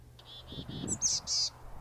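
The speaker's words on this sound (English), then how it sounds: "How much I love the sweet call of the boreal chickadee." Boreal chickadee calls in early spring: a run of three short, even high notes followed by two louder, buzzier notes, fairly close, over a low murmur of background noise.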